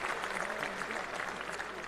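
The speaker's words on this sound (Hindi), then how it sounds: "ताली बजाओ तो दिल खोल के बजाओ," Audience clapping at a youth conclave in Indore, a dense, steady patter of many hands from a large crowd, heard at a moderate distance with no talking.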